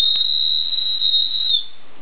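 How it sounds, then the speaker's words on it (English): A built-in whistle on a Field & Stream Hiker II knife gives one steady, shrill, piercing toot, held for about a second and a half before cutting off, loud and close with no talking. "a built-in whistle. Let's see if we can give it a nice toot."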